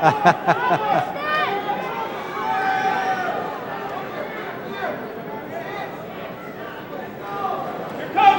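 Noisy crowd at an all-star high school wrestling tournament in a gym, a continuous roar of chatter and shouting with scattered sharp bursts near the start and end, loud and close, with talk mixed throughout.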